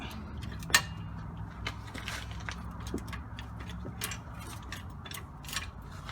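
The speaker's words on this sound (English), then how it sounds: "Now I'll jack up this little jack and it should bring the strut up." A small jack is cranked up beneath the front strut of a 2006 Toyota Avalon XLS, a string of quiet ratcheting clicks and ticks over a low background rumble, with one sharper metallic clack early on.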